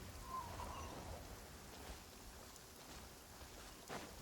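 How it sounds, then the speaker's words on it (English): Steady rain falls in Genshin Impact, a soft, even wash of hiss that holds for a few seconds with no voices over it. "Of course it just had to start raining, so now I can't climb"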